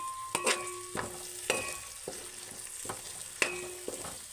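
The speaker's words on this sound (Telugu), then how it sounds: "కరివేపాకు వేసి ఒకసారి అయితే తిప్పేసుకున్నామండి" Curry leaves sizzle in hot oil in a pan for tomato rice, with several sharp scrapes and clinks of a spoon stirring at irregular intervals over a steady low crackle, close and fairly quiet, with no talk.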